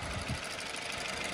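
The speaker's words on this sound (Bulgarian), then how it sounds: "Ето го двигателя." A Honda Insight 1.3 IMA engine running under an open hood, a steady, fairly close mechanical hum with a low rumbling throb and no talk.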